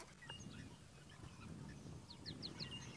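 Egyptian geese grazing near water in the African bush give a few faint distant honks in a short quick series, heard over low ambient outdoor noise.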